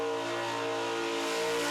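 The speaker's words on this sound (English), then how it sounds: "Great revs, great constant revs, and that typically equals great constant smoke." A supercharged burnout car, carburettors mounted on the blower, holds loud, steady high revs at the Summernats event; the engine note stays constant and close with no voices over it.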